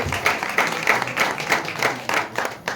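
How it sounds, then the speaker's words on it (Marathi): An audience at a public felicitation ceremony for Dashavatar folk-theatre artists claps in a strong, even rhythm, with crisp repeated beats roughly three times a second and no talking. "सागरसाठी एकदा जोरदार टाळ्या होऊन जाऊ"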